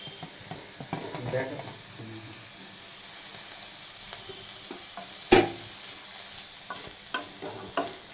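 Tomatoes and chili flakes sizzle in a little oil in a pan, a soft steady fry with intermittent stirring scrapes and one sharp clatter midway, fairly faint and close.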